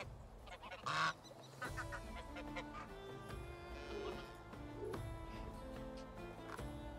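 A single short goose honk rings out in the Medieval Dynasty video game, followed by a steady layer of game music and ambient sound.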